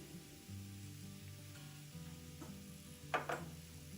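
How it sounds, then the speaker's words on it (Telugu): Masala of coriander powder, cumin powder, garam masala and salt fries in a pan for mirchi salan, giving a faint, steady sizzle with a couple of brief stirring scrapes toward the end. "ఇప్పుడు మసాలాని 1 నిమిషం వేగనివ్వాలి."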